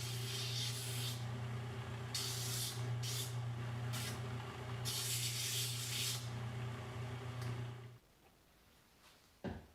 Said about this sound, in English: I could give it a quick sanding on my 1-inch vertical strip sander.